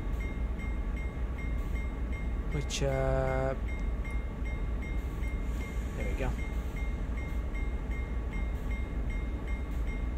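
Continuous rail rumble and rolling noise from a CSX freight train braking to a stop in the video game Train Sim World, with a brief voice and a short tonal blip over the steady drone.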